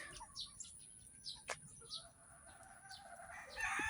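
Young roosters (stags) are bathed outdoors and give scattered short clucks and brief crowing calls, faint over a low background hiss, with a rustle that may be wing flapping near the end.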